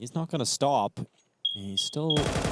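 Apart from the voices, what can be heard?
smoke alarm chirping, low battery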